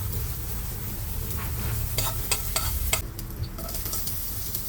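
Onions sauté in a pan for a mussel dish, giving a loud, continuous close-up sizzle broken by a few scraping clinks of stirring, with no voices.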